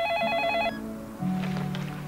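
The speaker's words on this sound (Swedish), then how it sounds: "Ja, men det ringer ju." A telephone rings with a rapid trilling electronic tone, two short bursts close and clear, followed by a lower steady tone.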